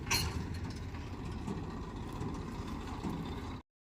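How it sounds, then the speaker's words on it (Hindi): A tractor engine runs steadily in a wheat field during harvest work, a continuous low rumbling drone at moderate distance that cuts off abruptly near the end. "तो अभी तो ट्रैक्टर लगे हुए, देखते हैं किधर को लगता है"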